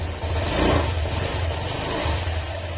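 A Honda Click150 scooter engine runs after an overhaul, with a steady close idle and a low throbbing hum that swells briefly, loud and continuous with no talking.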